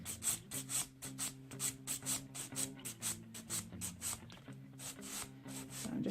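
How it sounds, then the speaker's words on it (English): A file rasps across builder gel on fingernails in quick, rhythmic back-and-forth strokes, close and fairly quiet, keeping a steady even pace throughout. "So I'm just going to continue filing."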